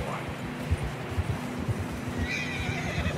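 A horse whinnies in the video game Red Dead Redemption 2 over steady wind-like ambience in fresh snow, with soft hoof clops and a faint voice in the background.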